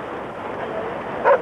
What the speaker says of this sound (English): The captain dog, Laika, doesn't like water.